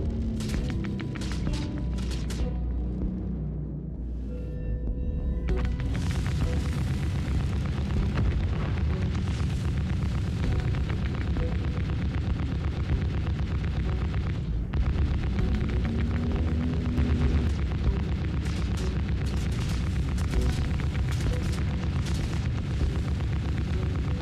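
Enemy ships in the Star Citizen space game fire on the player's ship, producing a continuous heavy rumble of booming impacts and explosions, loud and dense throughout with a brief lull near the start.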